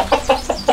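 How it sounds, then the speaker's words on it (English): Chickens let out of their coop cluck in four quick, close, evenly spaced calls within less than a second. "So I kept the chickens in, and I'm actually gonna let them out today."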